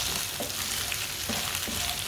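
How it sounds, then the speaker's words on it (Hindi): Chopped green chillies cook gently in a pan over low heat, giving a steady soft sizzle and light frying crackle throughout, with no voices. "सब्ज मिर्चों को 3-4 मिनट के लिए पका लेंगे।"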